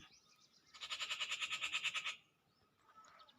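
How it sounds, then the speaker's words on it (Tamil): A sparrow in a tree gives a rapid, rhythmic series of harsh chattering notes for about a second, fairly close, followed by a fainter call in the quiet outdoors. "ஏதோ ஒரு குருவி சத்தம் போடுது என்ன குருவின்னு தெரில"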